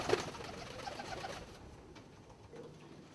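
Barred pigeons with booted feet and gold collars coo softly in a loft, a short low murmuring call near the start that fades into quieter background.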